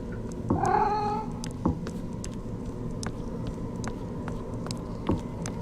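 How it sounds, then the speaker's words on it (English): An indoor house cat lets out one long, drawn-out meow, followed by a few short, faint chirps and soft bumps against a low room hum. "You are not an outdoor kitty."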